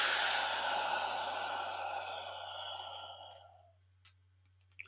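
One long, steady exhale through the mouth in a quiet room, breathy and close, fading out after about three seconds during a box-breathing exercise.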